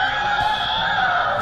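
A continuous buzzy electronic robot voice from the speaker of a Zyuranger DX Zyusouken toy sword, held steady and loud for a moment.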